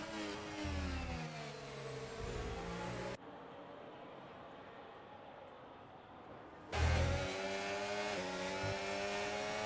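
Formula 1 cars in a British Grand Prix video game race scream past with high, shifting engine whines, loud and close, cutting out for a few seconds of quieter ambience before roaring back in.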